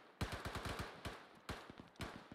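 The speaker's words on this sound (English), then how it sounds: "You're shooting over it with those tracers." Tracer machine gun fire in a military video game, heard as short rapid bursts of shots at a steady rhythm, faint and somewhat distant.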